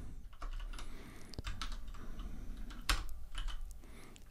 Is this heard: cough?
no